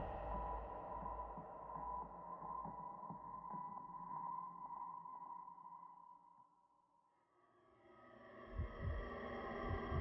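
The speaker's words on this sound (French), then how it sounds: "Le pouls se stabilise." A heartbeat pulse sounds in the game Call of Duty: Infinite Warfare as low, muffled throbbing under a steady droning hum. The hum dips and fades midway, then returns with heavier thumps.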